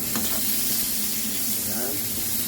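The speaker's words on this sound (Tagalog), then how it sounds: "garlic, onion, susutin mo lang." Garlic and onion sauté in a hot pan, a loud, close and continuous hiss of oil that stays steady throughout with no pauses.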